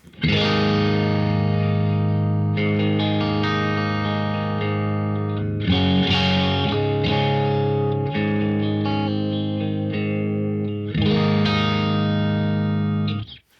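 Distorted electric guitar chords through an MZero Overdrive 100 and a Soldano SLO100 amplifier together ring out loud and sustained, played in a few strummed phrases with a thick, saturated tone.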